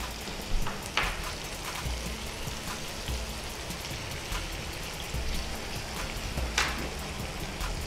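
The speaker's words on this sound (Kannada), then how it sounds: "ಸೊ ಗ್ರೀನ್ ಪೀಸ್ ಇದರಲ್ಲೇ ಈಗ ಫ್ರೈ ಆಗ್ತಿದೆ ಅಲ್ವಾ?" Fresh green peas frying in a pan, giving a steady hissing, crackling sizzle with a few sharper pops, fairly close and continuous throughout.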